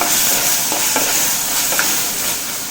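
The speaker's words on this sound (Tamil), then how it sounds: "இது எல்லாத்தையும் கலந்து விட்டுட்டு இன்னும் ஒரு நிமிஷம் வதக்கி விட்டுக்கலாம்" Capsicum and tomato sautéing in a pan for a Tamil capsicum chutney, a steady close sizzle with a few soft stirring scrapes, no voices.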